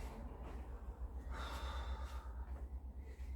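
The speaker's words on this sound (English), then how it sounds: "Remember to keep these deep breaths going." Deep, heavy breathing during a squatting lower-body workout: several close, airy inhales and exhales in a steady rhythm, fairly soft, with no talking.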